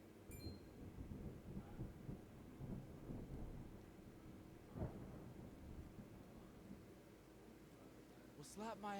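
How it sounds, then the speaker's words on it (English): Rain and rumbling thunder in the video game Triangle Strategy, low rolling booms under a steady hiss of rainfall, faint, with a voice talking over it. "Rain! Honest to goodness, rain!"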